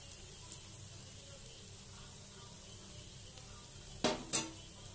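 Pieces of fried bitter gourd drop into a pot of Bengali lau shukto (bottle gourd curry). There are two quick splashy hits near the end, over a soft, steady sizzle.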